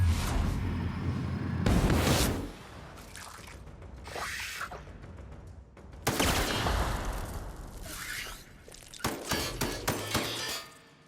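Combat in The Outer Worlds with shots and weapon blasts mixed with metallic clangs and impacts, in irregular loud bursts, ending in a quick volley of rapid shots.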